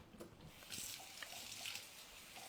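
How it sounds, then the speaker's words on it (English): A kitchen tap runs steadily as food is rinsed beneath it, a soft continuous splash of water with no talking. "I'm going to rinse this while you are working on that guy."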